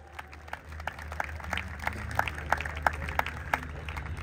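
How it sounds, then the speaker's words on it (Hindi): Scattered clapping rises into applause from a festival audience in Mumbai, individual sharp claps audible growing denser and louder over a low background hum. "एक बार मुंबई के लिए जोरदार तालियां हो जाए दोस्तों।"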